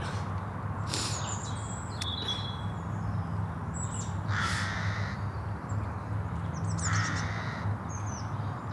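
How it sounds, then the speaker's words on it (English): Crows caw several times outdoors in the grounds of a convent, heard from a tree trunk. The calls are scattered and somewhat distant, with fainter bird chirps over a steady low background hum. "sitting on this tree trunk, just listening to the birds"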